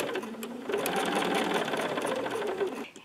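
Sewing machine stitching right along a fabric edge held with metal clips, a steady rapid whirring hum close by that runs almost three seconds before cutting off.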